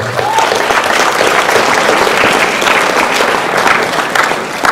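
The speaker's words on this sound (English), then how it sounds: "Let's give him a round of applause" Loud, dense applause from an audience at a school fall sports awards ceremony, a continuous wash of clapping held evenly from start to finish.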